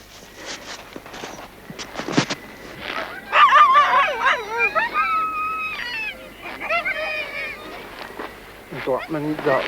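Greenland sled dogs in winter at feeding time, a pack barking, yipping and whimpering at close range in overlapping bursts, with rising whines and howl-like cries in the middle and no talk.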